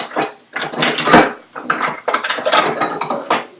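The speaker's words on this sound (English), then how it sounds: "Different utensils for the mixer" Kitchen mixer attachments being fitted and handled while preparing tiramisu cookies, a run of close clicking, ratcheting and clattering mechanical noises in bursts with short pauses, no talking.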